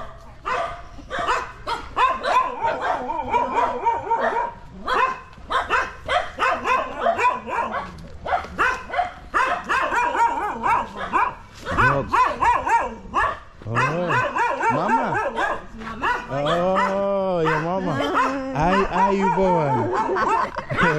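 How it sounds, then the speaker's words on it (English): Several dogs barking in a Sri Lankan village, repeated bursts close by with overlapping yips and howl-like calls, mixed with people talking and laughing throughout. "So many dogs here,"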